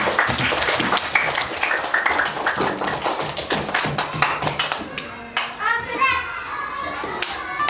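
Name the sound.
classroom children clapping hands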